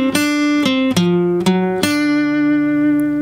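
Guitar double-stop pentatonic lick in G position played slowly, a handful of ringing two-note plucks that slide and roll to a sustained final note, close and alone with no talking.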